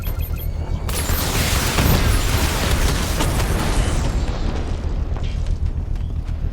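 A drone is hit and blows up in the video game Batman Arkham Knight, a loud booming blast with crackling debris that stays dense and rumbling for several seconds.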